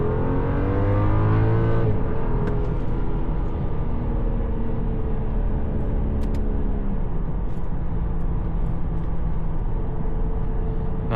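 A 2014 BMW 535i engine pulls hard under acceleration while driving, its rising harmonic drone shifting through gears, with steady road and cabin noise close to the microphone throughout.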